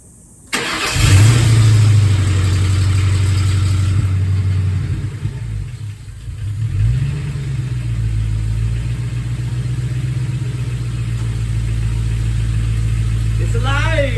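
Ford F100 pickup with a swapped-in Crown Victoria engine cranks and fires up, then settles into a loud, steady running rumble with a brief dip and a revving swell, with people talking nearby.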